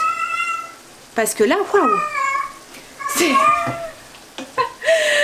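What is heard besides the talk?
cat meowing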